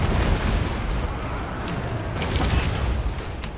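Artillery shells explode in the Total War: Warhammer II battle game, a dense, continuous rumble of booms and blasts with no clear gaps and sharper cracks near the end.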